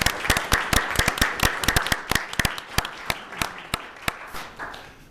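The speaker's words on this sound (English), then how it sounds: "we're also clapping for Nancy Droz" A crowd claps steadily for several seconds at a city council meeting, sharp overlapping hand claps at moderate distance with no voices on top.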